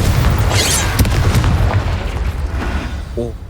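A Confringo blasting-curse explosion from the Hogwarts Legacy video game hits as a loud, sustained booming burst, with sharp cracks and a brief ringing magical tail near the end.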